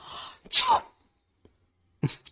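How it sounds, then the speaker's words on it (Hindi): A single loud, close sneeze with a sharp inhale and burst, followed by a short pause and a faint vocal sound. "उसको भी छींक आई"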